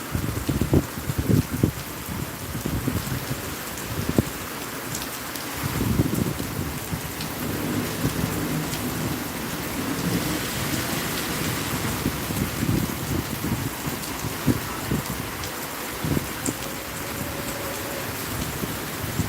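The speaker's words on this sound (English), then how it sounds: "The rain never passes." Steady rain patters on surfaces at a lakeside park in Celebration, Florida, with a soft hiss, punctuated by occasional heavier drops and a low rumble in the background.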